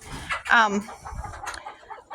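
Chickens, including roosters, cluck and squawk close by in a pen in short, uneven bursts, with a louder, drawn-out call near the start.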